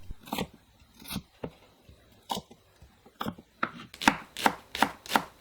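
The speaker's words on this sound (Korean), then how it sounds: "양파 4분의 1개를 채 썰어주세요" A knife julienning a quarter onion on a cutting board, close and crisp: a few spaced strokes at first, then a quicker, steady run of sharp chops, with no voices.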